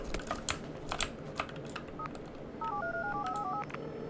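Sequence of DTMF phone dialing tones triggering an IED in the video game Squad, following a few sharp clicks; the stepped two-note tones play clearly for about a second, fairly close and moderately loud, with no talk.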